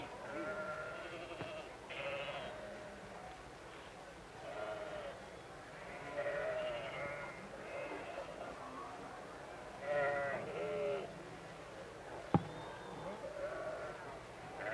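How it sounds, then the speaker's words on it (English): Sheep bleat repeatedly at state fair livestock judging, in a series of wavering calls of varying loudness over a faint crowd murmur, with one sharp knock near the end. "They're all fine-looking sheep, and it's no easy job for the judges."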